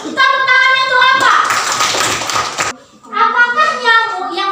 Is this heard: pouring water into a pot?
no